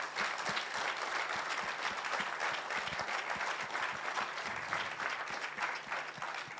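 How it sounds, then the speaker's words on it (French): Steady applause from a live audience fills the space, a dense patter of clapping hands continuing without pause at moderate loudness. "applaudissements pour vous"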